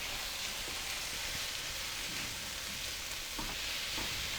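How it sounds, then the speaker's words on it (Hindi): Chicken with black pepper, crushed cumin and chaat masala frying on a low flame, a dense continuous sizzle with a few faint stirring clinks, close and steady. "मसालों को हमने चिकन के साथ अच्छे तरीके से भून लिया है"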